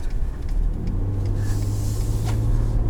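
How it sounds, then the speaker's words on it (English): A 2019 Ford Raptor pickup truck driving, its engine giving a steady low rumble with road noise close by and no talk. "this is my first time driving a Raptor and I'm already in love with the thing"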